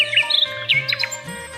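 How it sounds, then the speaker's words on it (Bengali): Birds chirping and tweeting on a village path in the morning, several quick bright calls in a row, close and clear with a low hum beneath. "রৌদ্র ওঠে বাতাস ছোটে, পাখিরা সব গান ধরে"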